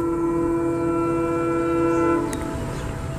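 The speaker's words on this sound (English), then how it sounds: "the train, fast approaching, starts blaring its horn to warn them to get the heck out of the way" A fast-approaching train blares its horn in a long, loud, sustained sustained blast over rumbling rail noise, fading slightly near the end.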